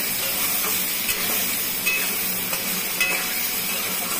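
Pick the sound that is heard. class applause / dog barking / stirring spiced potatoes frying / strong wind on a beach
stirring spiced potatoes frying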